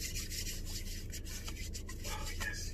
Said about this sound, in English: Let me put this hand sanitizer in my hands